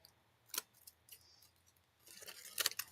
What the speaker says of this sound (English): First thing I'm going to do is cut that flap off.